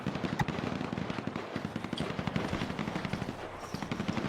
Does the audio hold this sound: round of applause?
no